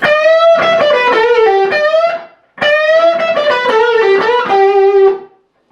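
A distorted electric guitar plays the opening solo phrase of a song twice, sustained notes bending and ringing loudly, with a short pause between the two passes.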